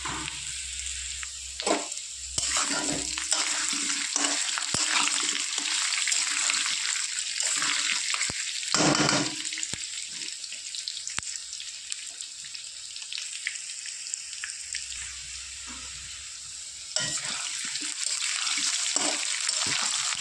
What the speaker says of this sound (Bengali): আলুগুলো একটু হালকা লাল করে ভেজে নিলাম মশলার সাথে